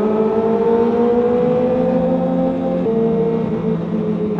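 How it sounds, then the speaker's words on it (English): A sport motorcycle engine rumbles with a steady, throaty aftermarket exhaust note that shifts pitch slightly as it holds a rev, close by and loud. "This dude's exhaust right here sounds really, really nice."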